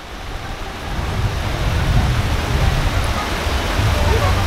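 Steady outdoor rain makes a broad hiss that swells and holds, with a low rumble underneath and people talking faintly.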